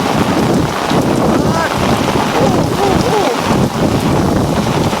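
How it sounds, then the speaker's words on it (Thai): Heavy rain and gusting wind pound down during a storm in rural Thailand at night, a dense, steady roar with wind buffeting the microphone and faint chirping creatures in the background. "ทั้งฝนทั้งลมเลยจ้า"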